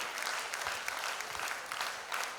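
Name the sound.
audience applauding young performers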